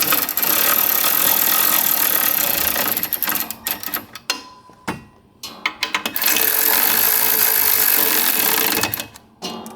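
A power tool runs bolts up snug on the pump of a Rotax mini jet boat during impeller and wear ring replacement. Loud, steady whirring bursts come close up, with a short pause in the middle before a second long run.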